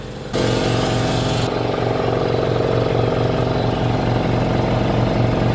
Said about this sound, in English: We'll check on the air compressor.